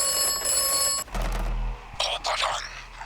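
Telephone ringing in the video game Atomfall: a steady electronic ring tone fills the first second, then gives way to other game noises and rumble.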